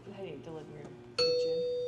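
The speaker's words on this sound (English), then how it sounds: "So there must be a bell upstairs or something going." A doorbell in a house under renovation chimes once, loud and near, with a sustained ringing tone that cuts in after people talking and lingers to the end.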